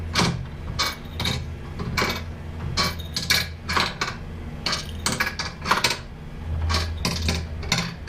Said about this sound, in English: just use your wrench here and turn it until it tightens up